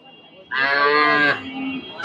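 A four-month-old bull calf gives one short, high-pitched moo close by at a cattle market, lasting under a second, with quiet background before and after.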